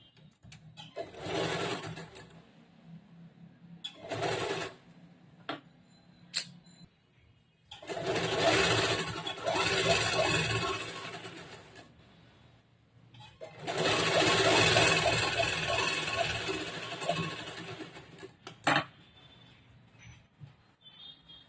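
A sewing machine stitches blouse lining to main cloth in several runs of rapid, steady whirring, short bursts first and then longer sustained passes, with quiet pauses and small clicks between them.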